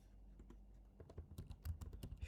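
Keys on a computer keyboard are tapped in quick, soft bursts, faint and close, with the typing speeding up after the first second while CSS code is written.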